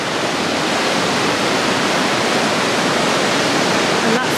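Loud, steady roar of river water rushing at a canal lock, a continuous broadband wash with no breaks.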